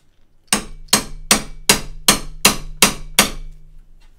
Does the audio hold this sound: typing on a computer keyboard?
no